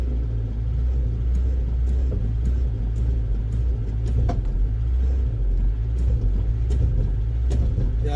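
A car engine idles with a steady low rumble while the clutch and brake are pressed, an attempt to free rusted clutch plates; continuous and close, with faint rattles and no talk.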